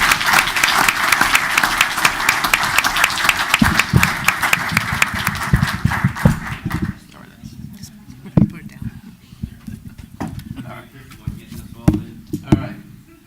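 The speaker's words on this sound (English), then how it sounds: "Please, big round of applause for our firefighters." Applause from the audience at a township committee meeting honouring the firefighters: dense, loud clapping for about seven seconds, then thinning to scattered claps and room murmur with voices talking.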